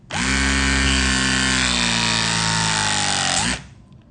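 A RIDGID RP 115 mini press tool runs one continuous press cycle on a fitting, a loud, steady motor whine lasting about three and a half seconds before dropping off abruptly.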